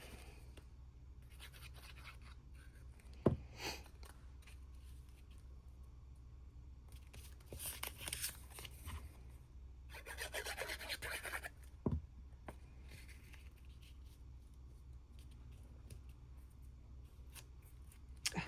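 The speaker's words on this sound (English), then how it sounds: "I made a little double cut when I was doing that." Scissors cut small patterned paper strips for a Christmas pop-up card, producing close, quiet snipping and scraping with a couple of sharp clicks over faint background hum.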